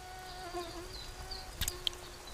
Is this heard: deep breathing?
no